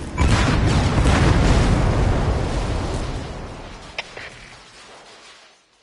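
A separator tank explodes in a video game with a loud, near boom that rolls into a long rumbling decay over several seconds, with a brief crack partway through before it fades.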